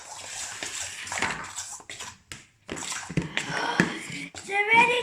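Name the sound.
mixing green slime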